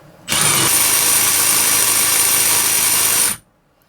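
Milwaukee SHOCKWAVE Impact Duty 3/8-inch threaded rod nut runner spinning at about 3,200 RPM, a steady loud high-pitched whine with a sharp tonal whistle that starts abruptly, holds for about three seconds and cuts off.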